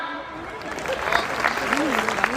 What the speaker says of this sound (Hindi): आप सबको काम मिला ताली बजाने का, बजा।